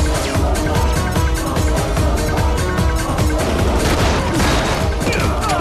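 Gunfire in a dramatic action scene, a loud, dense barrage of rapid shots and crashing impacts layered under a thick score, continuous and close throughout.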